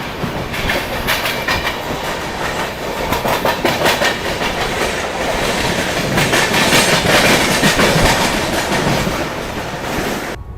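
CR Rajdhani Express, hauled by two engines, running at speed near Kalyan: a steady loud rumble with rhythmic clickety-clack of wheels over rail joints, heard alone from inside the coach.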